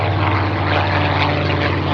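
A Supermarine Spitfire flying past at an airshow, its piston engine and propeller giving a loud, steady, full-bodied roar with a strong low drone throughout.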